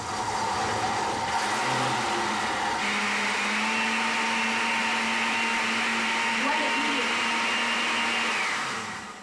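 A kitchen blender whirs at slow speed mixing ingredients, a loud steady motor drone that shifts pitch partway through and runs continuously before winding down at the end.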